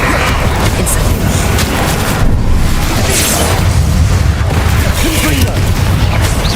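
Incendio fire spell blasts in Hogwarts Legacy, loud continuous booming and crackling bursts of magic combat filling the whole stretch, with a voice shouting over the din.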